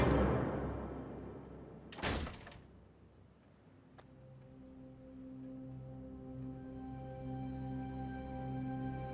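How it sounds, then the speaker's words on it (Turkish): A heavy door slams shut in a large room, one sharp loud bang followed by a lingering resonant hum, with no voices. "Kapatın kapıyı."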